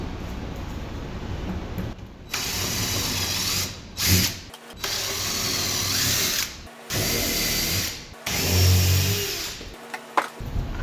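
A power drill runs in several long bursts separated by brief pauses, its steady whirring grinding as the bit bores into wood.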